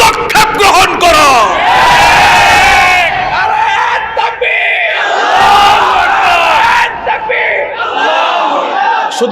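Crowd chanting slogans in unison at a religious gathering of Muslim clerics, loud, dense voices rising and falling in repeated rhythmic bursts across the whole stretch, close and sustained with shouted cries.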